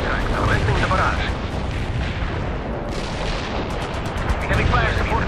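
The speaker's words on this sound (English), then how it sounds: "Commencing the barrage." An artillery barrage in the real-time strategy game World in Conflict pounds away as continuous low booming and overlapping blasts, with rapid crackling bursts near the end.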